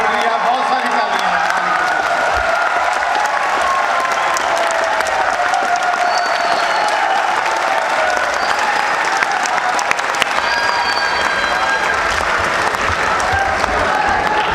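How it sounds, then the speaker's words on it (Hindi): Sustained audience applause following a comic poetry recital at Islamia University Bahawalpur, dense steady clapping with some crowd noise lasting throughout. "बहुत शुक्रिया, बहुत सारी तालियां।"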